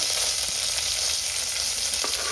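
Garlic, green chillies and curry leaves frying in hot oil in a pan, giving a steady, close, continuous sizzle with faint stirring scrapes and no voices.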